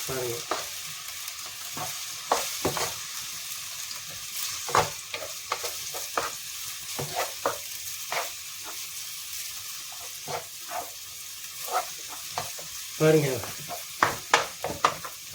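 Ginger-garlic paste sizzles in a hot pan while a spatula scrapes and stirs in irregular bursts, with a voice speaking briefly over the cooking.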